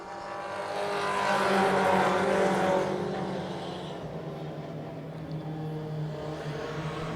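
Three-quarter scale race cars with roughly 110-horsepower Mazda four-cylinder engines roar past on track, a rising then fading buzzing engine pitch as the pack sweeps by, followed by a steadier distant drone.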